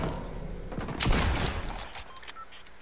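A sniper rifle shot in a Fortnite creative red-versus-blue match: one sharp, booming report with a short decaying tail over faint background game noise.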